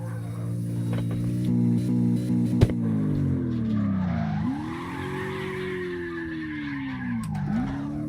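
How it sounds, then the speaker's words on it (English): A truck's engine winds down and droops in pitch while drifting in the CarX Drift Racing video game, with a sustained revving drone, tire skid noise and one sharp click partway through. "You can hear the engine just dying down."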